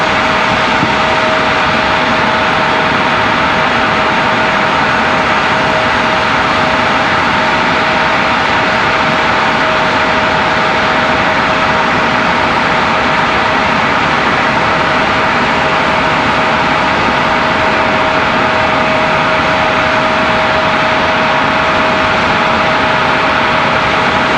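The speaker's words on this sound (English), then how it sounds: "nice looking CRJ" A CRJ regional jet passes at Raleigh-Durham airport with a loud, steady engine roar and a sustained high whine that hold for the whole stretch, and no voices are heard.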